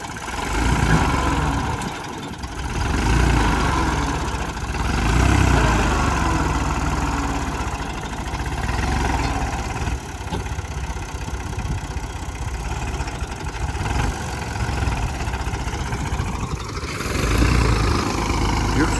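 A tractor engine idles throughout with a low, chugging rumble, briefly dipping and picking back up, heard close and fairly loud, while the tractor is stuck in mud leaving a field.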